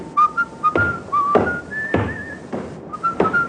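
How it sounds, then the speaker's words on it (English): A man whistles a tune in a radio drama, clear and fairly close, with short melodic phrases broken by several muffled thumps and footstep-like knocks. "that fella there, whistling"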